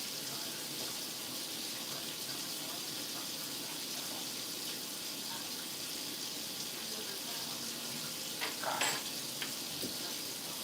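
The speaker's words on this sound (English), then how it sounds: "Make sure all the noodles are in the pot, boiling." Noodles boiling in a pot during home lunch cooking, a steady hissing bubble and sizzle that runs without pause, with faint clinks late on and no talk.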